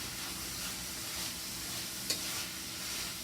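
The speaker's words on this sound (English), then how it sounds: "now I'm going to get that a little stir" Garlic sizzles softly in a pan for chili, a quiet steady frying hiss with one brief utensil tap midway.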